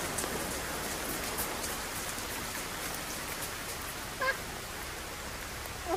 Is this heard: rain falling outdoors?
yes